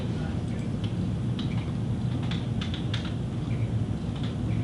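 Keys tap on a computer keyboard in a meeting room, scattered light clicks over a constant low hum of room noise.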